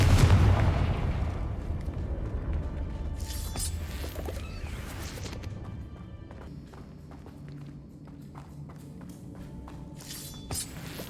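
A Confringo fire spell blasting in the Hogwarts Legacy video game, a loud booming burst at the start that rumbles down into a long crackling tail, with scattered sharp impacts and footstep-like clatter afterward.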